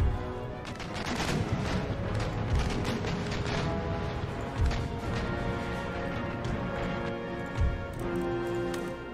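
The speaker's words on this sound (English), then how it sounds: "You fire grape shots" Cannons firing grape shot during a land battle in Empire Total War, heard as repeated sharp booms and crackling volleys over a dense, continuous battlefield din with music, mostly loud and steady.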